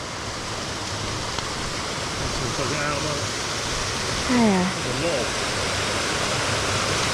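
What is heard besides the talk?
little waterfall on Alpe Stazzona hike near Lake Como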